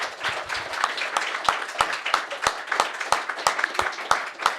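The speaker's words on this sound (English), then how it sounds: "So let's have a round of applause for Tyler and Josh." Fans at a Toronto radio press conference applaud Twenty One Pilots' Tyler and Josh, producing sparse, distinct claps from a small group that ripple unevenly at moderate volume, with a murmur of voices underneath.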